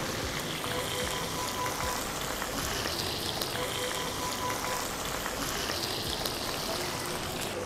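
Beef cutlet frying in a buttered pan just after being flipped, a steady close hiss and crackle of sizzling that stays even and unbroken throughout, with no talking.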